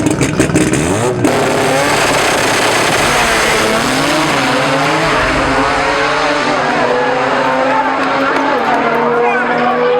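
Microtech EFI modified race cars in a finals race: loud, sustained engine roar with rising and falling revs and gear changes, close by, with talk over it.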